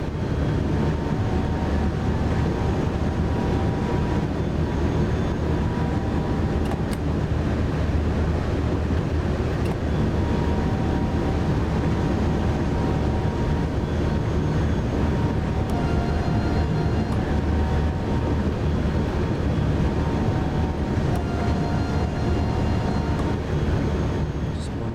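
Steady, unbroken rumble of a train picking up speed on the Rhein-Ruhr main line in Train Sim World, with a low drone and faint tonal whine running continuously.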